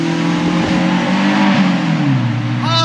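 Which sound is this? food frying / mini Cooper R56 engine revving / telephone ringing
mini Cooper R56 engine revving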